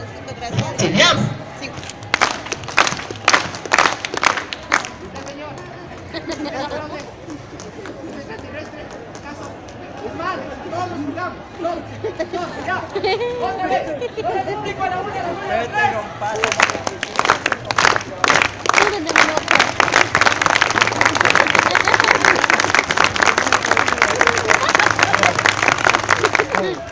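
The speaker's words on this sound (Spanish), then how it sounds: "ustedes dan un aplauso." A crowd at a circus event in Quito breaks into rounds of clapping and applause. The clapping comes in bursts early on and swells loud and dense toward the end, with someone speaking Spanish between the rounds.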